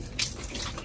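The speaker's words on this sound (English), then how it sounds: "Here it goes, it's gonna drip." Water drips and splashes briefly, close and soft, as the water inlet valve on a GE washer is loosened, with one brighter splash standing out over a low wet wash.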